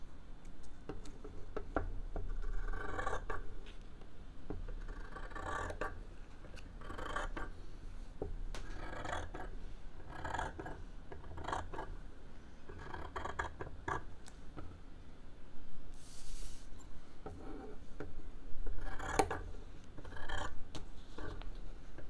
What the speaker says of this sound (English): So as always when we're cutting, try and do nice long strokes.